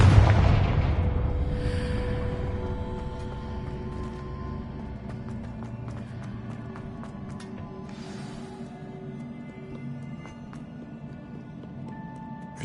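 A heavy Confringo spell blast erupts in Hogwarts Legacy with a loud booming onset, then rumbles and crackles, slowly fading over several seconds.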